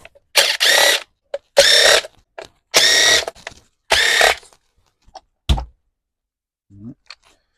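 A power driver removes screws from the cover of a Honda generator in four short whirring bursts, each about half a second long, followed by a few small clicks and taps of loose parts, close by with no talking.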